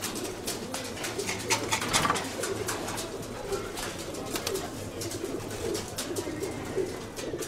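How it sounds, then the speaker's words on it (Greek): Pigeons cooing inside a loft at a display pigeon festival on Salamina, layered soft coos and wing flutters repeating close by. "Αυτά εδώ είναι τα περιστέρια."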